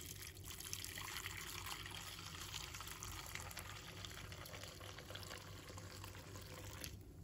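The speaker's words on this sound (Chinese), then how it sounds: "把干木耳倒入碗中，再加1勺的食用盐，加入1勺的面粉，然后倒入温水" Warm water pours steadily into a bowl of dried wood ear mushrooms mixed with salt and flour, a faint continuous trickling stream that stops near the end.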